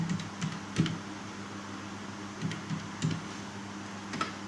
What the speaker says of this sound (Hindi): अब उसके बाद आप जब नंबर टाइप करेंगे यहाँ से